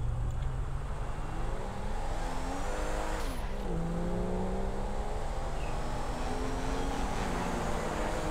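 Engines of a motorcycle and an Opala car racing in GTA 5 whine loudly and continuously, their pitch climbing through gear shifts, with a brief dip near the middle and no talk.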